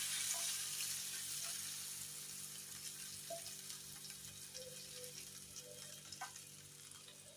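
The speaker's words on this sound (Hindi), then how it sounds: "जल्दी से हम अपना तड़का इसमें डाल देंगे" A soft, steady sizzle fades slowly as hot tempering settles into kadhi curry, with faint bubbling and a few light clinks.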